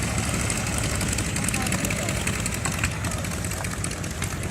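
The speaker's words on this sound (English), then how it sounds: "this beautiful example of the Spirit of St. Louis with the exact same engine you're going to hear fly as Charles Lindbergh did." A Spirit of St. Louis replica with the same engine type Lindbergh flew runs at Old Rhinebeck Aerodrome, giving a steady, rough, broadband drone that holds at a constant level throughout.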